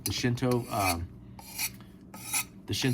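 A Shinto rasp file scrapes wood from an axe handle in a series of close, rough rasping strokes with brief gaps between them.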